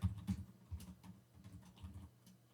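Code being typed on a computer keyboard for a C linked list program, soft rapid keystrokes in irregular bursts, close and fairly quiet, with no talk.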